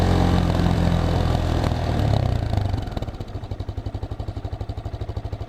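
A Geon X Road Light 250 motorcycle rides through city traffic. Its engine roars loud and close, then settles into a steady, rapid pulsing throb.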